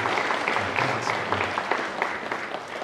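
A church congregation at a Sunday worship service claps warmly to welcome a pastor and his family, a dense, continuous wash of applause from many hands, fairly loud and steady throughout.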